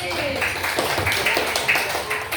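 Children in a classroom clapping for a classmate named Adit, a brisk patter of many small hands at moderate loudness, with voices mixed in.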